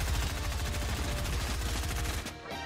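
Rapid automatic gunfire in Fortnite rattles off in a fast, regular stream of punchy shots, loud and close, stopping abruptly just before the end.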